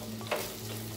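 Stirring turmeric into chicken curry frying in a pan, a short scrape of a spoon over a steady low sizzle, close and alone.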